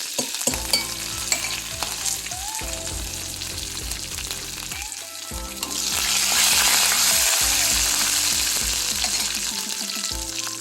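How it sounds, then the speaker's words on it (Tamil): Cumin seeds and curry leaves crackle and sizzle in hot oil in a pan. Hum-like tones come and go under the frying, and the hiss swells louder partway through. "பாருங்கள், சீரகம் போட்டுட்டேன், பொரிஞ்சதையும் கருவேப்பிலை போட்டு"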